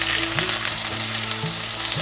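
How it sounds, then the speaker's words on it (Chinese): Carrots and potatoes pan-frying in oil until golden, a close, steady sizzle with faint scraping and low hum running underneath, no speech. "把红萝卜和马铃薯煎成焦黄色"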